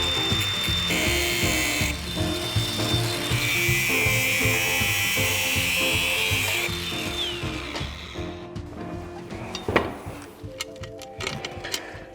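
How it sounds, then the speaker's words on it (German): An angle grinder cuts a part off a motorized beer crate build, a loud sustained high whine with rattling, mechanical grinding that gives way to clanks and shorter bursts toward the end. "Jetzt hole ich schnell die Flex und dann kommt das weg."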